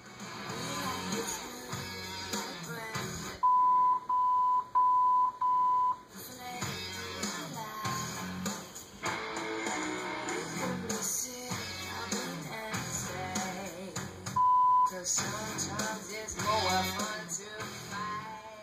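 A converted FMR-1 radio gives a series of short, identical electronic beeps in a quick group, then a single beep a few seconds later, heard between bursts of music playing from the radio.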